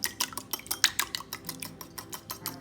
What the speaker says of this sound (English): And then we're gonna whisk this together.